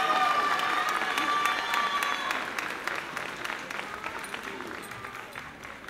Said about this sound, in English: Another round of applause for the NJF Lead Incorporated